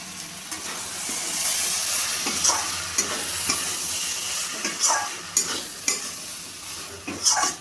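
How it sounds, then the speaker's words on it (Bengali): Chicken and chickpea (chana) curry being stirred and sautéed in a hot pan with a little dried fenugreek, steady sizzling and frying hiss broken by repeated scraping stirs of the spoon, close and fairly loud with no talking. "এবার ভালো করে আবার একটু কষিয়ে নেব।"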